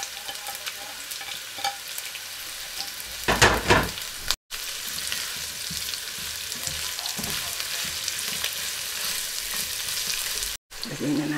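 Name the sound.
onion being added and sizzling in frying pan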